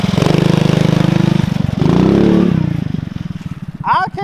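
A Trailmaster Mid XRX-R off-road vehicle engine revs hard during a peel out with a rapid throbbing exhaust pulse, climbing in pitch then settling as it pulls away, a voice briefly heard at the end.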